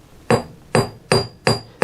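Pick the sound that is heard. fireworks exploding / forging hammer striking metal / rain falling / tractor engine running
forging hammer striking metal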